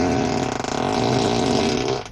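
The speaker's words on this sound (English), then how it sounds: "It makes a fart noise." A Tesla Model 3's novelty fart sound effect plays through the car's speaker, one sustained buzzy, low tonal blast of about two seconds, loud and close, ending abruptly.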